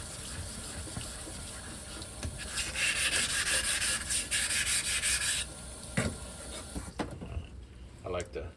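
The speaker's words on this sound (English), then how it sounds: "Then I use just regular Scotch pad to clean the surface." Abrasive scrubbing of a Scotch pad across the face of a Tom O'Shanter Scotch hone used for straight razor honing, a steady close rasping that swells louder midway, then breaks into short scrapes near the end.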